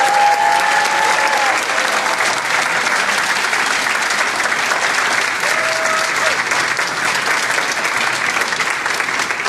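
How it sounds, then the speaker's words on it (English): A large audience applauds loudly and steadily, the dense clapping sustained throughout with a couple of brief whistles or cheers rising above it. "I want you guys to applaud again."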